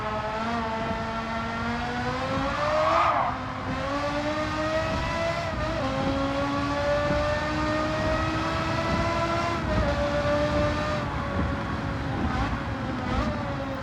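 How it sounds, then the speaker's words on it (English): A Porsche Carrera GT V10 fitted with a semi-racing exhaust in Gran Turismo 7 drones loudly in a sustained high-pitched wail, its pitch climbing and dipping through several short shifts and lifts. "the more we change the sound of this thing, the less it sounds like a V10 and just more like the sound of an exhaust of a race car"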